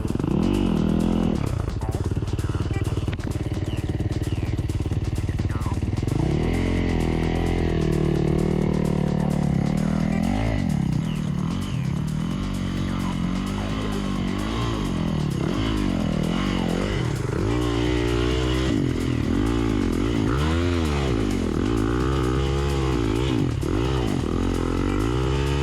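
A big 450 dirt bike engine revs hard on a trail ride. It runs loud and continuous for the whole stretch, rising and falling in pitch with wavering throttle, and clattering and scraping sounds from the trail come through underneath.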